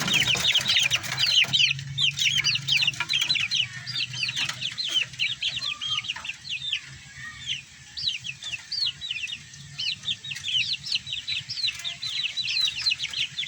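Chickens clucking and chattering in a farmyard, a dense, close flock of busy clucks and squawks continuing throughout with low background rumble.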